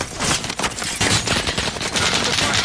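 Rapid automatic gunfire in a shooter video game, dense continuous bursts crackling loudly across the whole stretch, with no pause between shots.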